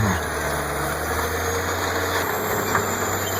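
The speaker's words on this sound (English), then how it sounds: "Listen to that engine scream." A bulldozer's heavy diesel engine drones steadily at high load while pushing a huge boulder, a loud continuous rumble with a strained, grinding edge and no voices.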